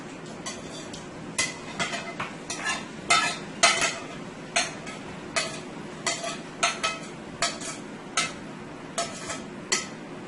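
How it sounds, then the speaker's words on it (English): Seasoning frying in hot oil in a pressure pot before steak and rice go in, heard as a low sizzle behind a steady run of sharp, regular scrapes and clinks of a utensil stirring against the metal, close up with no speech. "And I'm going to let this fry for about 2 to 3 minutes."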